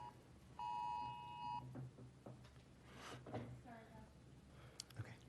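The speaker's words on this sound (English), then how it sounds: "Apparently you set off some alarms." An electronic alarm beeps once in a steady, sustained tone for about a second during a legislative hearing, followed by scattered clicks and rustling in a quiet room.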